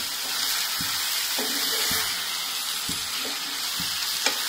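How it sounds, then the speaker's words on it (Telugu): Small bommidalu fish fry in oil with a constant close sizzle, while a spoon scrapes and stirs the pan in several soft strokes, with no voices. "కొంచెం ఆయిల్లో వేగితే వాసన రాకుండా బాగుంటాయి."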